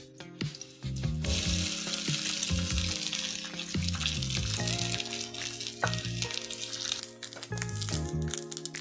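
Onions sauté in a pan with chili powder, salt and turmeric for leftover fodni rice, giving a steady crackling sizzle with occasional stirring under prominent background music.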